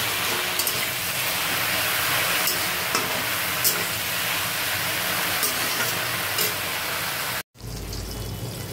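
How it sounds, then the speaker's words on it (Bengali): Mung dal frying in a pan for a festive Bengali dal, a steady close sizzle with occasional stirring scrapes throughout, then a brief cut and the frying continues. "মুগের ডালটা ভেজে নিচ্ছে এখন"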